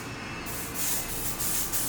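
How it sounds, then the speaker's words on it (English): A short spritz of texturizing hair spray misted over wavy hair, a soft airy hiss starting partway in and pulsing in a few quick bursts, close and fairly quiet. "And then I just add a last little spritz of the texturizing spray"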